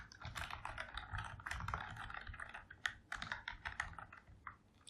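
Rapid keystrokes on a computer keyboard, a quiet, irregular run of light clicks close by with brief pauses and no voice.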